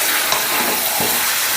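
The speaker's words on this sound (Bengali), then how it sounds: "চিকেনটা বেশ ভালো করে কষে নিয়েছি" Chicken for chicken dak bungalow sautés in a pan with a loud, continuous sizzle and brief scraping strokes of stirring.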